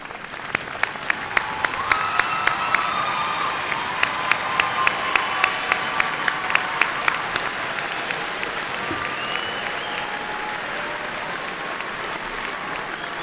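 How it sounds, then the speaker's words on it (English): A large graduation commencement audience claps steadily in a dense, sustained wave of applause, with a few sharper claps near the front and a faint murmur underneath. "stand at this time and accept our applause"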